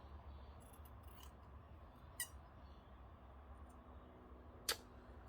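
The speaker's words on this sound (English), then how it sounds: "First I'm going to cut it off at an angle." Scissors snip through sewing thread on a folded fabric rose for a junk journal cover: two sharp, isolated, close snips several seconds apart, over a quiet room.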